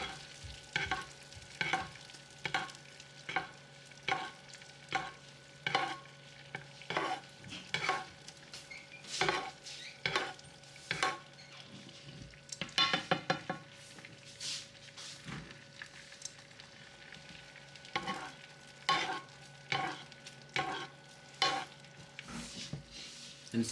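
Butter sizzling in a pan for sole meunière as it slowly browns, a quiet continuous fry under a long series of regular scraping and stirring strokes, close and without talk.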